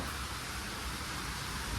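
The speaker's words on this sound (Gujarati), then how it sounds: "તળાજમાં વરસાદ અને વાવાઝોડું ભૂકા કાઢે છે" Heavy rain pours during a windstorm in Talaja, soaking a house, making a dense, unbroken roar that stays loud and even throughout.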